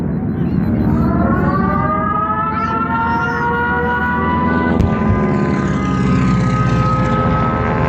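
Air raid sirens wail loudly and continuously during the attack on Pearl Harbor, December 7, 1941, their rising and falling tones layered over a low droning rumble.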